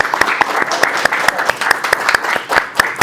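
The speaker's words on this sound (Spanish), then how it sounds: "brindémosle un aplauso a César por estar dedicado." Audience applause at an engineering training session in a meeting room, a spread of dense clapping with sharp individual claps standing out, steady and fairly close throughout.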